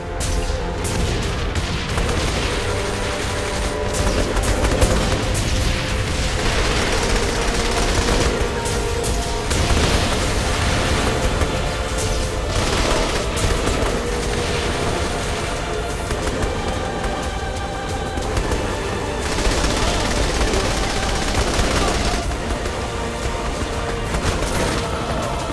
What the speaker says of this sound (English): Enough with the explosions!